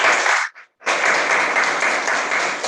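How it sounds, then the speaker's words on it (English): Hybrid Toastmasters meeting audience gives a steady round of applause, briefly cut by a moment of silence before the clapping resumes at full strength. "And a big round of applause for Toastmaster Sonal."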